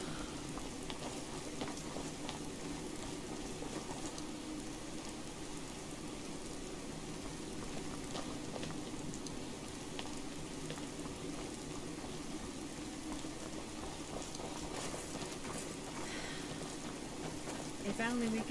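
Steady rain hisses and patters continuously in a Skyrim game world, a dense even wash of droplets holding at moderate level throughout with no other clear sounds.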